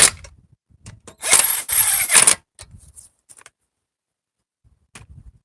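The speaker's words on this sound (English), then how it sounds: "We'll torque them down with a wrench." A wrench torques down wheel nuts in a home garage, giving a burst of rapid ratcheting clicks in the middle, surrounded by brief metallic taps and handling noises, close and fairly loud.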